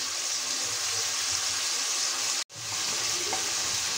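Moringa drumstick curry, meatless and without onion or garlic, sizzling with salt and spices in a pan while being stirred, a steady close hiss broken by one brief dropout before resuming.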